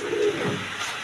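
Pigeons of various breeds kept for sale give a brief, soft, low coo that rises and fades within a second, close by against a faint background hiss.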